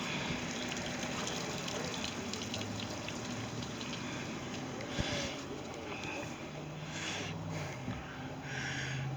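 A Four Winns boat's bilge pump pushes water out in a continuous, faint gushing wash, with splashy hiss and small bumps over the steady flow; no voices are heard.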